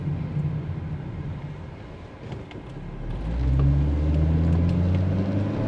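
A car driving along a road to a delivery, with steady engine and tire rumble that swells louder in the second half as the vehicle accelerates; no talking.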